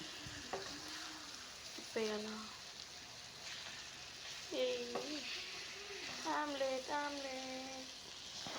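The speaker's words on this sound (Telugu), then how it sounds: "ఈ విధంగా 5 నిమిషాలు వేగినాక మనం గుడ్డును తిప్పి వేద్దాము" An egg sizzles steadily in hot oil in a pan while cooking for a cabbage egg curry, with a continuous close crackle and a voice speaking intermittently over it.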